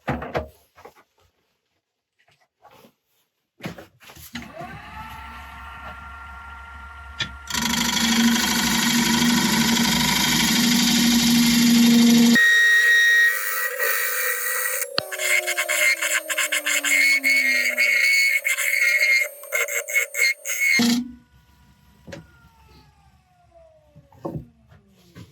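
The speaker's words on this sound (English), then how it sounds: "I'm just going to take another pass down there, and I'll go in with a scraper" A wood lathe spins a turning project while a scraper cuts across the surface, producing a loud, sustained rasping hum broken by shifting tones and brief pauses, with the motor whine lingering as it stops.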